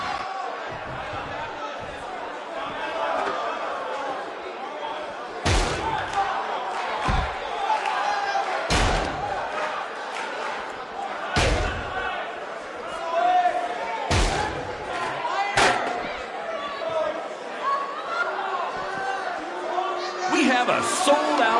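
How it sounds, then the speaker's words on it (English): Wrestling arena crowd in WWE 2K19, a sold-out record-setting house at a BCW show, a steady roar of cheering and chatter punctuated by several loud sharp slams, with talk running over it. "A sold-out, record-setting crowd here for BCW tonight."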